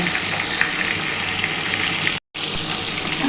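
Small pieces of fresh katla fish fry in oil in a pan, a loud, continuous close-up sizzle with a brief cut to silence partway through.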